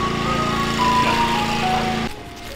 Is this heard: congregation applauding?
no